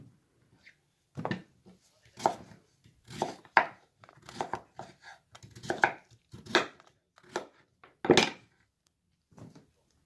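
Knife chopping pumpkin on a cutting board for a Turkish pumpkin dessert, a series of separate close thunks at an uneven pace with quiet gaps between them.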